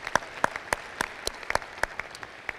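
Sparse applause at a healthcare conference recognition ceremony, a modest room of people clapping in uneven, separate claps at moderate distance, fairly faint and without cheering.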